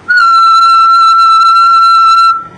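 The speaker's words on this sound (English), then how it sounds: "So even though I was trying to just make a single sound, apparently when I whistle" A person whistles one steady, loud, pure note held for about two seconds, with faint overtones above it, close to the microphone and alone before it cuts off.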